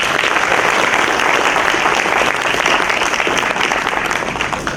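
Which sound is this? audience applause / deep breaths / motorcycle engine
audience applause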